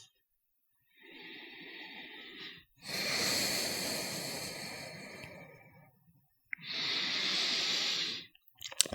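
Slow, deep breaths during a yoga session for active splits: a soft inhale, then a long airy exhale and another full breath, close and clear with quiet pauses between, no talking.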